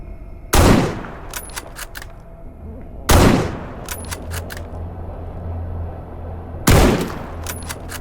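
Three loud, sharp gunshots ring out at uneven intervals in the S.T.A.L.K.E.R. GAMMA video game, each a broadband crack followed by a short ringing tail and metallic clinks, over a low steady rumble.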